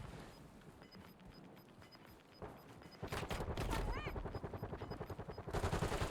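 Rapid automatic gunfire in the video game Warzone ranked play, dense bursts growing louder and more continuous in the second half, with brief pauses between volleys and a faint high pickup tone.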